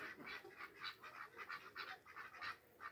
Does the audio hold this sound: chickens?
yes